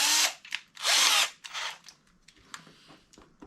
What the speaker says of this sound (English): put in a 6 millimeter drill